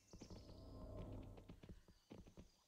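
Horse hoofbeats from the video game Kingdom New Lands clip-clop in a quick, uneven gallop, loud and close, with a short neigh-like cry blended into the rhythm and no talking.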